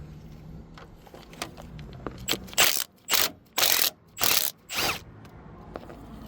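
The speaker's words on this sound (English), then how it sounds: "We're going to use the 11mm socket with the Milwaukee impact, just like so." Milwaukee impact wrench with an 11mm socket removing a nut on the rack and pinion of a 2007 GMC Sierra 5.3L, several loud rapid hammering bursts in quick succession, close and alone after quieter mechanical clicks.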